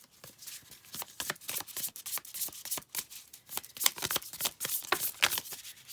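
A deck of archetype oracle cards is shuffled by hand, giving rapid, close bursts of crisp riffling and slapping in an uneven rhythm.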